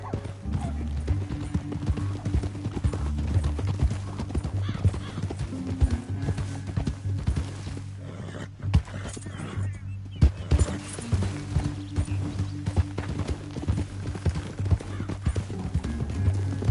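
Horses gallop and whinny in the Western open-world game Red Dead Redemption II, a dense, continuous run of hoofbeats close by with occasional neighs under a layer of game sound.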